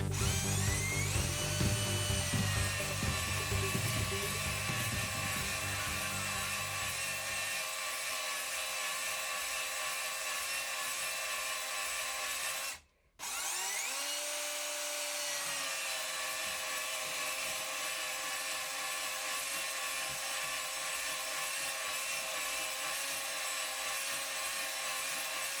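A power drill spinning a cylinder hone inside a 1976 Honda CB550 engine bore whines steadily for a long stretch, stopping briefly midway and then spinning up again, loud and close.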